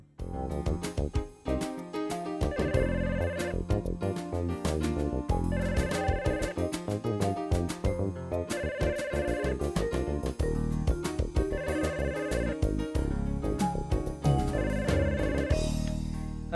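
A telephone ringtone from a workplace boss's call plays as a loud, steady melodic loop, repeating in regular phrases throughout with no talk over it.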